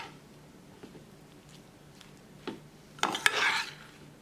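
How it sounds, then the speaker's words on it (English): Chicken pieces are tossed and pressed in all-purpose flour, giving soft scattered rubs and rasps, then a louder burst of scraping and patting near the end, close by and without talk. "we added the chicken into all-purpose flour, then we're going to coat it"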